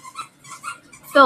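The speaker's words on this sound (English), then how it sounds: "Please excuse my dog playing with a toy in the background." A dog plays with a toy in the background, giving soft whimpers and low growly sounds, ending with a brief, sharp squeaky burst.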